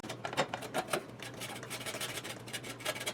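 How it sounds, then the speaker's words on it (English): Carrots are grated for pot stickers with continuous rhythmic rasping strokes, close and moderately quiet, with no talk. "We're going to go ahead and grate up about 3/4 of carrots."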